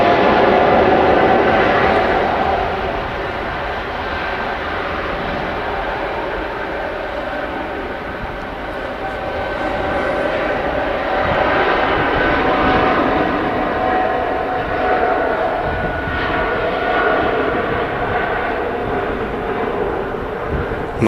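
A Boeing 777 taking off from Manchester Airport for Doha, a loud, sustained jet engine roar that dips slightly, then builds and holds steady as it climbs away, with no talking.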